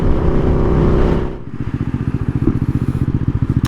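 A 2020 Husqvarna Svartpilen 401 motorcycle engine revs loudly up close, then drops into a fast, steady, throbbing idle with even pulses and no voices.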